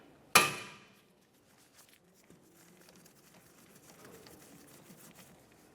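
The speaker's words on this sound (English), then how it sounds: "We'll do that using a Phillips head bit driver and a hammer." A hammer strikes a Phillips head bit driver once to break loose a brake rotor screw on a 2006-2011 Honda Civic, a sharp, loud metallic bonk followed by a short ring and faint handling noise.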